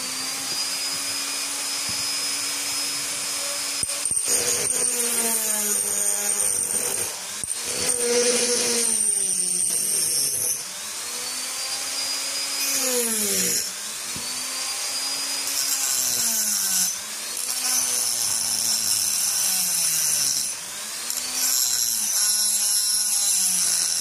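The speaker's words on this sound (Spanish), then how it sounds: "voy a seguir y van a ver que en algún momento se va a cortar sola mi taza" A power saw cuts through a ceramic cup, its whining tone rising and dipping in repeated arcs as the blade bites and slides along the workpiece, loud and continuous with brief pauses, no voices.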